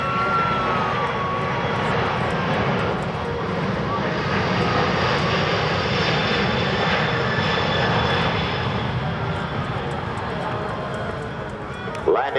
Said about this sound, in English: Big airplane, very agile.